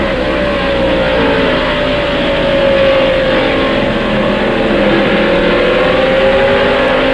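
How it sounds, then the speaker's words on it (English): A 1995 stock race car from the First Union 400 roars at full throttle down the straightaway toward 119 mph, a loud, steady engine drone with a rising pitch sustained throughout. "We're watching the electronics as he accelerates down the straightaway up to 119 miles an hour"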